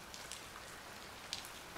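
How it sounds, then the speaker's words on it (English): Light rain in the video game Dream Daddy falls as a faint, steady patter with a few soft drop ticks, alone with no voices. "It's still raining a little bit."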